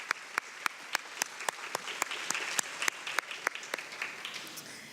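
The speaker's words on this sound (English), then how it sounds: "I hope we would just celebrate them and their hard work by giving them a kindergarten clap" An audience at a health summit claps in unison, a slow, evenly spaced run of sharp, loud claps that quickens slightly, with scattered faint clapping filling the gaps.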